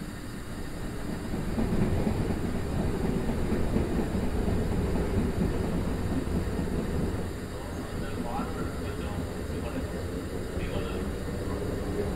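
A train engine labors uphill in a train simulator video game, a continuous loud low rumble and rolling drone with no voices over it.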